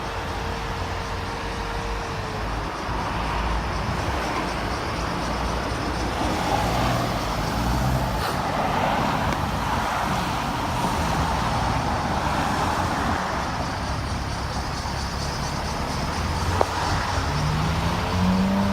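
Steady road traffic noise at a jammed mini roundabout, a continuous dense rumble of idling and slowly moving cars and heavier vehicles, with no clear pauses.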